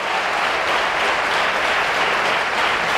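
Sustained, dense ovation from a gala audience at the Al-Andalus awards, a continuous wash of clapping at steady loudness with no voices standing out.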